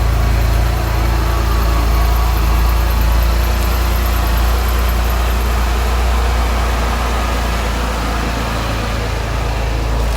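A 2021 Cadillac XT6 Premium Luxury idles nearby with a smooth, steady, low engine hum that holds level throughout without revving.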